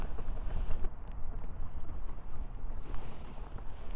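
Gusty wind sweeps across an Oregon golf course on a wet day, a steady, close rumble of air buffeting the microphone with no pauses.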